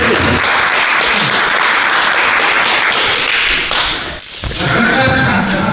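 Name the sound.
applause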